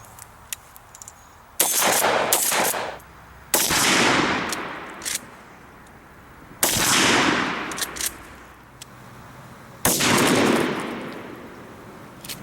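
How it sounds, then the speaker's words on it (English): A Remington 870 12-gauge shotgun fires 00 buckshot into a ballistics gel block from about 12 meters. Four loud, separate blasts ring out, each with a long echoing decay. "We fired that shot from about 12 meters away."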